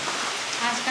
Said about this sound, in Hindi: देखो बारिश में बहुत मजा आ रहा है